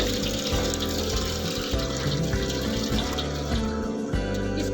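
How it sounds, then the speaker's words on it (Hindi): Water runs steadily for livestock, a continuous close gushing stream with a low pump-like hum beneath, no pauses and no talking. "पानी डालते हैं बकरी में।"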